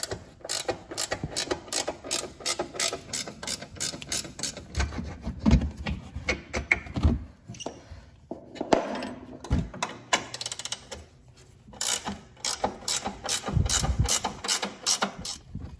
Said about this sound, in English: Now they take a 17 millimeter wrench on each end.